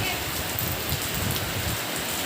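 Heavy rain pours down steadily, a dense, continuous hiss of drops striking surfaces close by, holding an even loudness throughout with no thunder.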